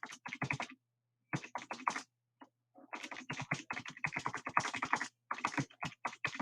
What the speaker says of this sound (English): So give me a second as I type this up.